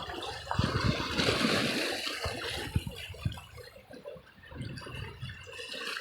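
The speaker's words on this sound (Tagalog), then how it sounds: "Nakakita na ako pag sila humahampas sila sa bato. Yung tubig, yung alon ba." Sea waves washing against rocks on the coast at Joroan, Tiwi, Albay, heard as uneven splashing surges and gurgling water close by, rising and falling in irregular bursts.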